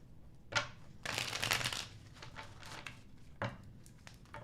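A deck of tarot cards shuffled by hand: a quick snap, then a longer riffling burst, softer handling rustles and another sharp tap, close and fairly quiet with no talking.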